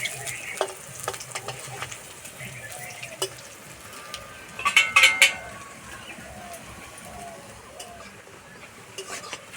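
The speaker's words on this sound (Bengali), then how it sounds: "এবার বড়াগুলো উল্টে দেবো" Drumstick flower fritters frying in hot oil over medium heat, a soft continuous sizzle with a few clinks and scrapes as the fritters are turned, and a brief louder spitting burst midway.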